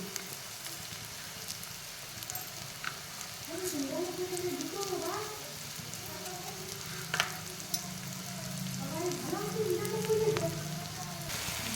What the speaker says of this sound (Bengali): আমটাকে আমি আরেকটু ভালো করে ভেজে নেব